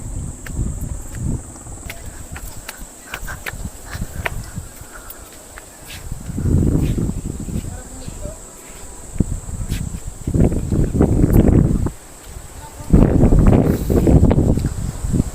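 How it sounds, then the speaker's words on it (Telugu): Strong cold wind at the Bodakondamma viewpoint buffets the microphone in heavy gusts, surging in loud low rumbles three times between quieter stretches, with faint rustling in the lulls. "చల్లటి గాలి కొడుతుంది"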